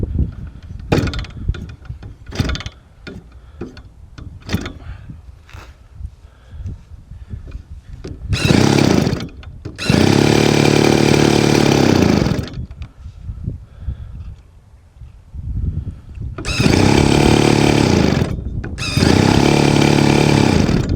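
A model aircraft engine at a flying field fires in loud buzzing bursts, revving hard for a few seconds at a time between stretches of clattering handling noise and sputtering attempts.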